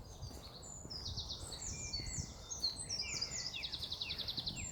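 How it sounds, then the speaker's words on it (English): Several birds sing outdoors, bright overlapping trills and chirps at moderate distance, with a repeated rapid twittering toward the end over a quiet background. "you hear the birds"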